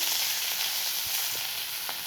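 Coriander leaves sauté in a pan for chutney, giving a steady soft sizzle and hiss throughout with a few faint stirring knocks, close and quiet.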